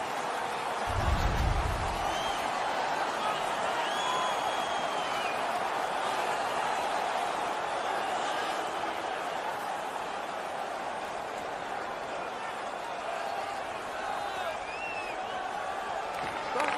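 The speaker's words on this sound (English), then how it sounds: "The home crowd is ecstatic. They're making all kinds of noise." Home crowd in an NHL 19 hockey video game, a steady loud roar of cheering and noise throughout, with a play-by-play announcer talking over it.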